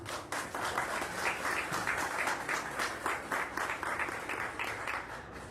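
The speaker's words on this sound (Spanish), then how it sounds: "Un aplauso." A room full of people at a book presentation claps steadily, a dense, sustained round of applause that holds for several seconds.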